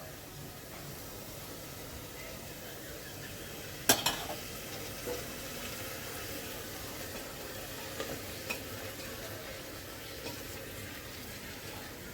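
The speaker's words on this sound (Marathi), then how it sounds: "आता आपण नीट परतून घेऊया" Washed capsicum, French beans, carrot and cauliflower are sautéed and stirred in a pressure cooker for veg biryani. A quiet, steady sizzle runs throughout, broken by one sharp utensil clink and a few soft scrapes.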